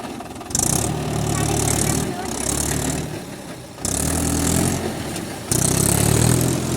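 A farm vehicle's engine runs at a steady idle with surges, near and loud, while people talk over it in a rural paddy-planting setting.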